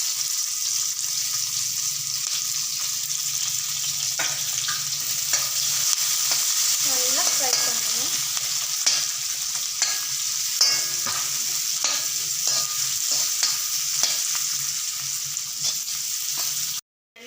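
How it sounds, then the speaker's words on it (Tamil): Onion and green chillies fry steadily in a pan for an egg gravy, giving a continuous close sizzle with occasional stirring scrapes and clinks, no talk. "இப்போது வெங்காயம் பச்சை மிளகா போட்டுக்கிறாங்க."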